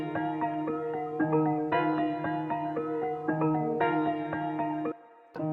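A piano melody sample for a trap beat, doubled by a copy pitched down an octave, plays a repeating sequence of chords and notes, loud and alone.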